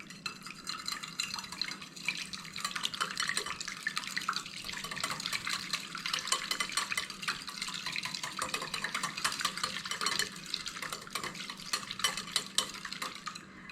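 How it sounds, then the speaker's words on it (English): A whisk beats eggs in a bowl with rapid, continuous clattering and scraping strokes, close and busy throughout. "then beat these eggs up a little bit. If I can find a whisk"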